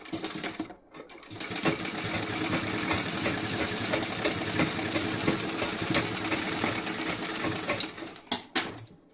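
A sewing machine stitches lace onto the back of a blouse in a fast continuous whir, briefly pausing near the start and stopping with a few clunks at the end.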